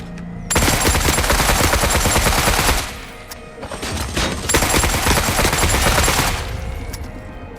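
A video game turret opens fire in long, loud bursts of rapid automatic gunfire, a brief pause, then another sustained volley before it tapers off.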